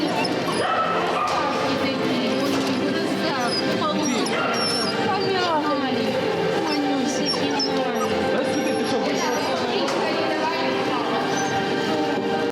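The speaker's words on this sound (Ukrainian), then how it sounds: "Песики просяться додому." Several dogs in an animal shelter whimper, yip and bark almost without pause, close and loud, their cries overlapping throughout.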